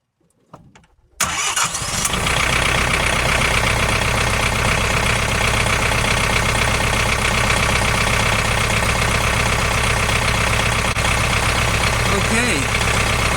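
Tractor diesel engine with warmed glow plugs cranks briefly, then catches and settles into a steady, loud, close idle that runs without a break for the rest of the clip.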